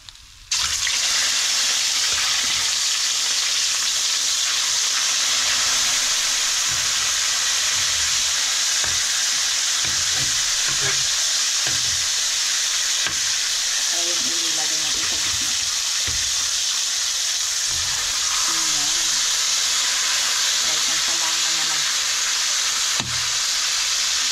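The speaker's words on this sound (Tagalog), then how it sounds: "Baliktarin na natin yung ating pinirito" Fish caught while spearfishing in Palawan fries in a pan with a steady, loud hiss and sizzle that fills the whole stretch, with occasional pops and clatters from turning the pieces and a voice talking underneath.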